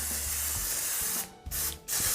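Steady hiss of a coconut oil aerosol spray onto a pan, followed by two short bursts with brief pauses between them, close and fairly loud.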